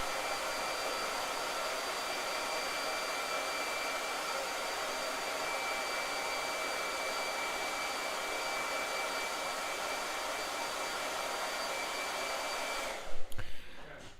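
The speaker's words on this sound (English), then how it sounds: "Blow dryer. Go ahead." A blow dryer runs continuously at close range to dry paint on a figure, a steady loud whooshing roar with a faint whine, then a few clunks as it stops near the end.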